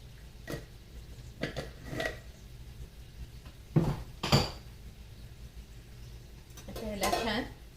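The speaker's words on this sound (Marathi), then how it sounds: "याला छान सॉते करून घेते" Potato curry (batatyachi bhaji) with tomato masala and kasuri methi being stirred in a pan, a few scattered metal spoon scrapes and clinks, quiet, with a voice speaking around them.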